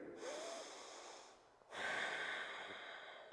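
Deep breathing held through a yoga pose in a power flow session: two long, steady breaths, the second louder and fuller after a short pause, close and alone with no talk.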